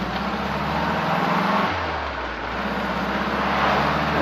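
An open-sided Morris Mini Moke drives along with a steady, loud engine drone, the pitch stepping and dipping slightly as the gears change, with road and wind noise throughout and no talking.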